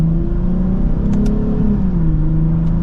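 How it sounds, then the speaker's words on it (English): A Lexus IS 350 F Sport sedan in sport mode accelerates mildly, its engine drone rising and falling steadily and up close from start to finish, with no talk over it. "just a mild acceleration, and we're up to the speed limit just like that"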